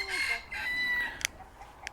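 Soft clucking and crowing calls from a rooster and hen at a distance, with a couple of sharp short clicks in between.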